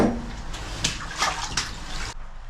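Floodwater in an underground bunker sloshes and splashes close by, a few soft watery surges over about two seconds before stopping abruptly, quiet overall.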